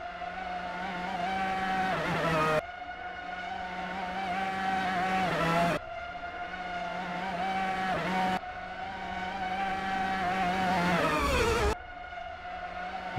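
A Mazda 787B race car screams along a track in a racing video game, near the Flugplatz section. The high, buzzing engine note climbs steadily and drops sharply at each of four gear shifts, with no talking.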